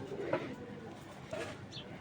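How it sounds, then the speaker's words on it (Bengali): Soft, low cooing of racing pigeons close by, a few gentle throaty calls in a quiet space. "কবুতরগুলো অনেক ছটফট করে দর্শক"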